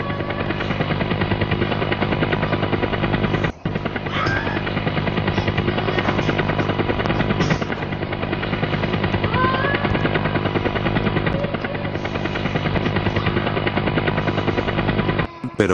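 A helicopter in the video game GTA San Andreas on Android drones loudly and continuously with a dense, buzzing rotor and engine tone, with rattling gunfire-like bursts mixed in.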